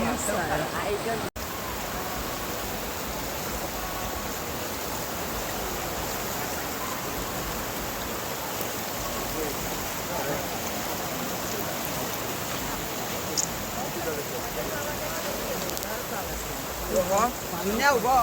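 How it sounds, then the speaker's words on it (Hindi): Flowing water of the Narmada river, a loud, steady rushing wash that fills the whole scene without a break. "और जो साउंड आ रहे हैं ना नदी से, वो आप सुनिए।"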